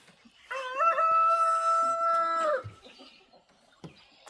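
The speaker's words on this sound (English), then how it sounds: "This is my chicken coop" A rooster in a backyard chicken coop gives one loud, close, drawn-out crow lasting about two seconds, with a few soft clucks and scratchy coop noises before and after.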